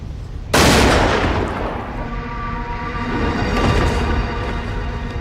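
A single loud gunshot from a silver bullet in a werewolf film climax, firing sharply after a quiet moment and trailing into a long rumbling echo and reverberant tail.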